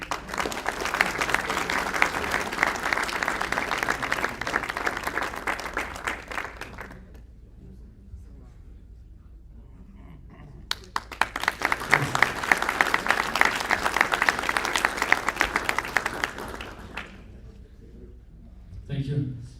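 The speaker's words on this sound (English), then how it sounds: "We can applaud." Audience applause at a live dealer awards ceremony, in two sustained bursts of dense clapping from a large crowd, each lasting several seconds, separated by a quieter stretch with faint voices.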